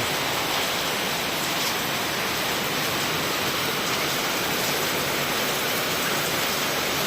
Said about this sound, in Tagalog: napakalakas ng ulan sinata yung bagyo eh pakita ko sa inyo lakas ng ulan